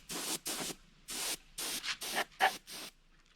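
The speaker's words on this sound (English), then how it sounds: "The next thing I like to do is spray some metallics" Bursts of spray paint hiss from a spray gun in a painting booth, laying metallic base coat (gold and silver pearl) onto a muskie fish replica; about seven short blasts separated by brief pauses, close and steady.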